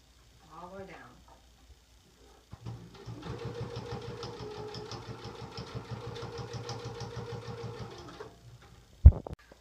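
A sewing machine stitches a pillow in a steady, rapid mechanical run of about six seconds, close and fairly quiet, with brief talk just before and a clunk at the end.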